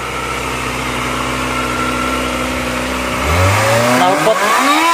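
Kawasaki Ninja ZX 250 motorcycle engine idling with a steady close drone, then a quick blip of revs rising near the end.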